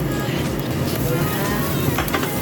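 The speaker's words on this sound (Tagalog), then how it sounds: "Unahin natin igisa yung ating carrots." Carrots sizzle while being sautéed in a pan for a sotanghon dish, a steady loud frying crackle with light stirring scrapes, close up and continuous.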